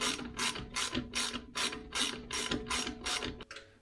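Ratchet tightening bolts while an electric water pump plate is fitted to a car engine, giving nine or ten rapid bursts of clicking in a steady rhythm, close and clear, with no voices.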